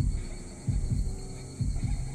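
A heartbeat in the horror video game Shadow Corridor throbs low and muffled, a few paired thumps repeating under a steady hum.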